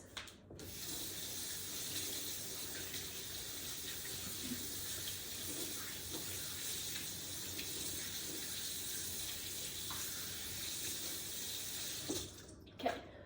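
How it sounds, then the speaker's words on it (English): Tap water runs steadily into a sink as hands are washed under it, a continuous close hiss with faint splashing that stops abruptly near the end, with no talk. "let me wash my hands really quick"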